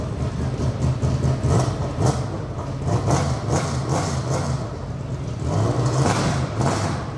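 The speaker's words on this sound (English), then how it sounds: "they fired up the LMP3 car, which was really good" An LMP3 race car engine fired up inside a trade fair hall, loud and close, with repeated sharp revs rising and falling over a throbbing low rumble and the hall's echo behind.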